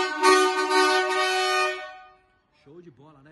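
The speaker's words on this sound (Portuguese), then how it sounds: "Volkswagen 715. Pô, merece uma buzina bruta" Dual marine electropneumatic air horn fitted to a Volkswagen 715 truck gives one loud, sustained harmonic blast lasting nearly two seconds, then cuts off, followed by someone speaking.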